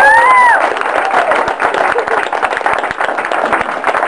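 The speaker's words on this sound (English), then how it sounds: "Let's give a round of applause for that." A room of people at a Target farewell party breaks into a sustained round of applause, steady loud clapping mixed with crowd noise and scattered cheers, with a brief whistle at the very start.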